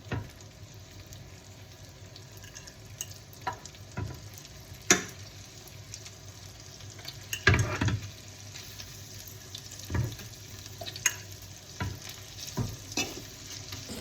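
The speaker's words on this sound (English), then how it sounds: "we have our shrimp cooking in a single layer in the olive oil and butter" Shrimp cook in a single layer in olive oil and butter in a pan, giving a soft, steady sizzle marked by scattered clicks and light scrapes of stirring, with no one talking.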